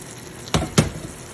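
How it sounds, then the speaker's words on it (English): Eggplants stirred into a Mediterranean-style vegetable pasta sauce in a pan: two short, close scraping and sloshing strokes over a faint steady hiss. "So now I'm adding the eggplants to the pasta sauce."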